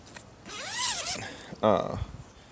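A zipper on the outside of a Kodiak Canvas 12x12 lodge tent's screen porch enclosure is pulled in two strokes, a longer rising zip and then a shorter, sharper one, close and clear.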